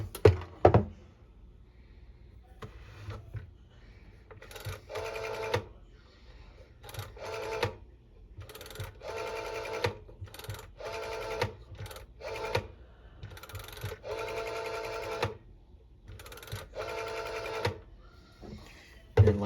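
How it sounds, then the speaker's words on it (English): Dialing on a 1971 Oki 600A rotary telephone: repeated bursts of rapid mechanical clicking as the dial returns, each run of pulses separated by short pauses, close and clear with no talking. "So then what we'll do is I'll dial a few numbers here."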